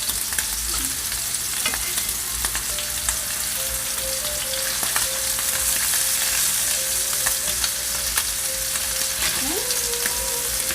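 Scallops for scallops scampi frying in a hot pan, a steady close crackling sizzle that runs throughout, with faint clinks and a thin background tone and no speech.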